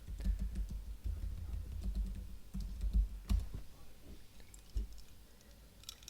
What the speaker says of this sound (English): So just type in your location.